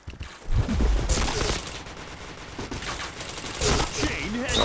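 Rapid bursts of gunfire in a first-person shooter game, loud volleys clustering at the start and again near the end, with a voice talking over the shots.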